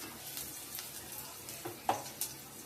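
Thinly sliced onions fry in a pan for Hyderabadi egg masala curry, a faint, soft sizzle with a few small crackles and pops over a quiet background.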